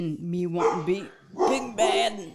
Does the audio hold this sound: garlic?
no